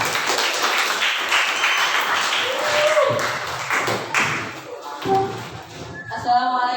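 An audience in a school student council (OSIS) plenary session at SMP IT Budi Luhur claps for a candidate. Steady clapping fills the room, mixed with voices and a few taps and thumps.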